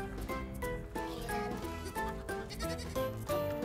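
Voices in a children's cartoon imitate goat bleats: a run of bright, wavering 'baa' calls layered over lively background music.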